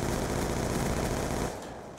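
Automatic gunfire in the Black Ops 2 video game: a dense, loud, unbroken burst of rapid shots lasting over a second, then cutting off to quieter background noise.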